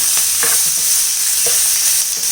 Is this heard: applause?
no